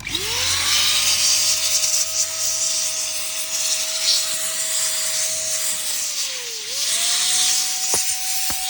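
An AGARO compressed air duster blows dust out of a keyboard with a loud, continuous whine and rushing hiss, its pitch rising at start-up, dipping briefly, then climbing again, ending with a couple of sharp clicks.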